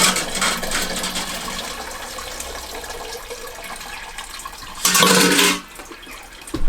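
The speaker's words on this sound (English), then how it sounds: "Pour it over the grains as well." Water pours and splashes steadily over grains during a home brew day for a pilsner, with a louder gushing burst near the end and no talking.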